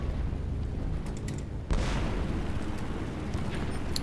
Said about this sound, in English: shot two rockets and both of them hit something